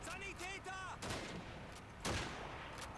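Gunfire in the World War II shooter Call of Duty 2: someone talks at first, then two loud, sharp gunshot bursts about a second apart ring out over a constant battlefield din.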